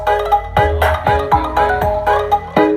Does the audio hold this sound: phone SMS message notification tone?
yes